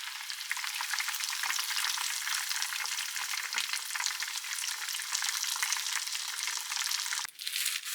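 Breaded katsu pork cutlet frying in hot oil for katsudon, a loud, steady, close-up bright sizzle with crackling bubbles throughout and a brief dip near the end.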